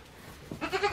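A single short goat bleat, nasal and wavering, rising out of quiet background hiss near the end.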